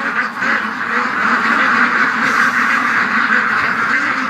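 Ducks at a lake quack loudly and continuously, a close, busy chorus of overlapping calls with no clear gaps.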